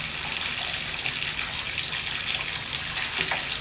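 Water gushes steadily from a tap as a tub or basin fills, a continuous close hiss and splash with no break and no talking.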